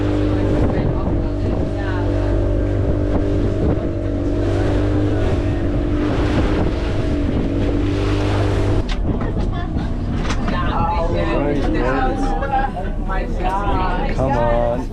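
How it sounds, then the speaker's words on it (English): A decent-sized motorboat runs at sea with a steady engine drone and wind buffeting the microphone, then the tone shifts partway through as voices talk over the engine and water. "It's a decent sized boat"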